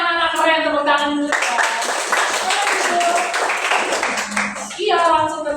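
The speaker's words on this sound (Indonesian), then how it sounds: "Tepuk tangan dulu." A class of children in a school lesson claps together for a few seconds of dense, lively applause, with voices talking just before and after.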